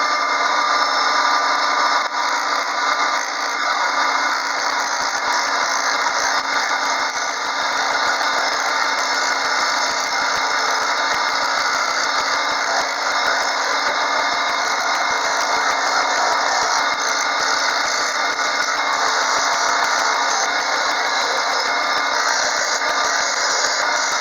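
A lathe spins at around 2,800 RPM turning a deer antler pen blank, giving a steady, loud whine with a continuous scraping, rubbing tool sound that holds unchanged throughout.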